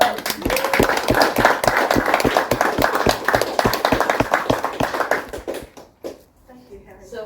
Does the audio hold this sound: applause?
yes